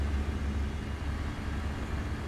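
A steady, low truck engine rumble in American Truck Simulator, heard with the windows down, drones continuously with no talking, like a heavy truck idling or cruising at an even pace.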